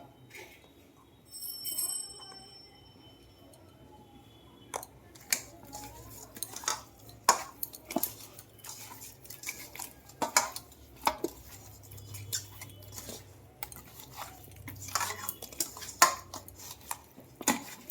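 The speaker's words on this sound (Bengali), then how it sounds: "আমি এখানে মাছটা সুন্দর করে মেখে নেব।" Fish is mixed with spices in a dish, heard as quiet, scattered clinks and taps of utensil against bowl, irregular and close, with faint low background murmur.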